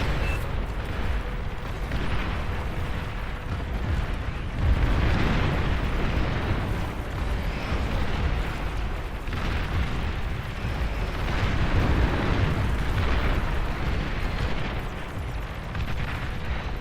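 Dense, sustained rumbling blasts from tactical rockets in the Beyond All Reason real-time strategy game, rolling in repeated waves of booming explosions with no voice over them.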